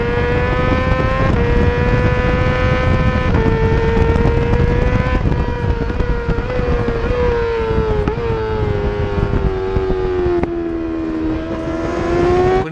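A race car at Imola runs at full throttle in sixth gear, its loud, close engine holding a steady high whine that climbs slowly in pitch with a few slight dips.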